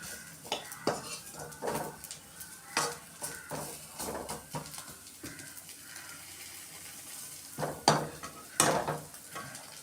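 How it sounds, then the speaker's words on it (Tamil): Dried banana (vazhai karuvadu) with chili powder fries in a pan while a utensil scrapes and clinks against the metal in irregular bursts, with steady low sizzling underneath and sharper knocks near the end; no one speaks. "வெறும் மிளகாய்த்தூள் மட்டும் போட்டு நல்லா முருவெல்லாம் நல்லா வறுத்து விட்டுக்கோங்க"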